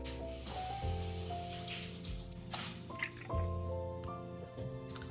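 A quarter cup of water pours into a mixing bowl alongside vegetable oil for a batter, giving splashy, wet drips and squishes over steady background music.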